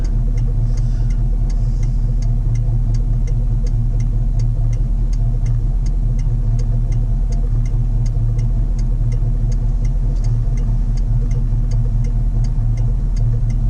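A 1976 Camaro with headers and Flowmaster exhaust and no H or X pipe idles and pulls away in first gear, a steady low rumble under a fast, even ticking that runs throughout.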